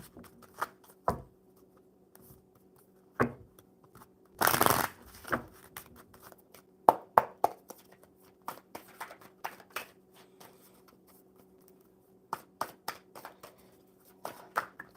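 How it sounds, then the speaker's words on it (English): A deck of playing cards gets shuffled in sharp riffling bursts with clicks and taps in between, close and fairly quiet, in an otherwise hushed room. "Get these shuffled up super,"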